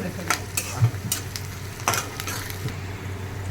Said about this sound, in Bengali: এটাকে বেশ লাল করে ভেজে নেব